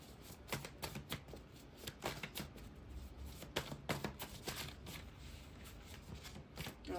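Tarot cards being shuffled by hand, a run of quick, soft riffling slaps and flutters repeating in uneven bursts, close and fairly quiet, with no speech.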